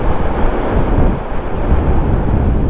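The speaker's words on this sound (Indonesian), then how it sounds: "Sorry teman-teman, kencang banget anginnya." Strong wind buffeting the microphone on a southern coastal road in East Java, a loud, continuous low rumble and roar with no talking.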